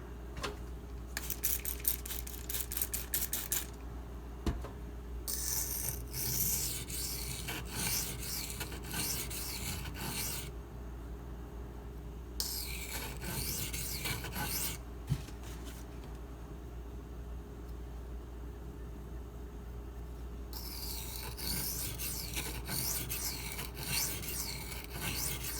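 A small Spyderco Lil Native knife is sharpened by hand, giving repeated rasping strokes against a stone in alternating bursts with short pauses between them. No one talks.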